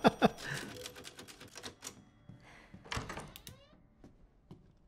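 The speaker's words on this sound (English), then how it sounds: "He just starts typing." Typewriter typing in the video game Resident Evil Village: Shadows of Rose, a burst of sharp mechanical key strikes and clacks followed by sparser thunks and a carriage-like slide, fairly close.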